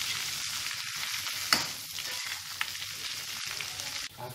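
Tempeh frying in a pan of hot oil until golden brown, giving a constant close sizzle with a few sharp pops and scrapes as it is stirred.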